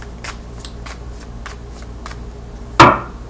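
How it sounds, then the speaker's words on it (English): A deck of tarot-style cards is shuffled by hand in soft, rhythmic riffles, close and quiet, ending in one sharper, louder snap of cards. "So I'm gonna shuffle a little bit more,"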